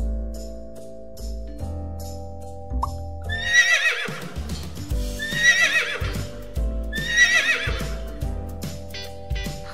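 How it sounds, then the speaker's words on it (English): Three repeated horse whinnies ring out over a looping backing of rhythmic clip-clopping hooves, loud and close, with no one speaking. "Horse."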